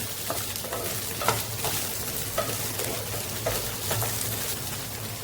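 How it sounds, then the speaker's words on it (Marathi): Fried okra being stirred into a potato masala in a pan: a constant soft sizzle with periodic spatula scrapes and clicks at a slow, even rhythm, close and moderately loud, no voices. "आता यामध्ये भेंडे घालूया फ्राय केलेले व्यवस्थित मिक्स करून घेऊया"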